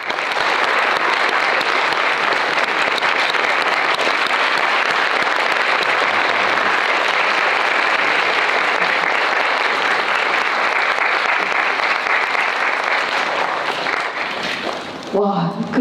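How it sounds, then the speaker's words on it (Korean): A large Korean cinema audience at the BIFAN film festival applauds guests arriving on stage for a talk, dense sustained clapping echoing through the big theatre for about fifteen seconds before tapering off at the end. "극장이 워낙 커서 박수 소리가 에코처럼 굉장히 아름답게 들리는데"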